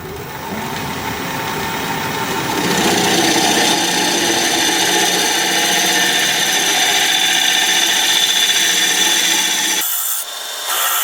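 Wood turning tool being sharpened on a grinder in a workshop, a steady loud grinding rasp that holds for about ten seconds before cutting off abruptly.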